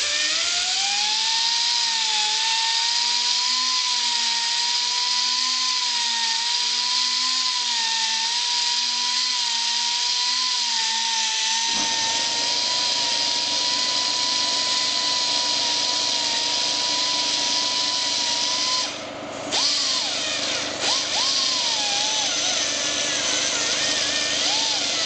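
Rotary file grinding an AeroVee 2.1 engine crankcase, a continuous high whine from the small power tool held at slow steady speed, close and loud, shifting in tone partway through and briefly dipping near the end.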